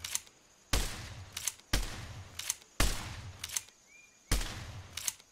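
Rifle gunshots in a Unity3d survival video game, four sharp loud reports spaced about a second apart, each followed by a brief mechanical clack, with no talk.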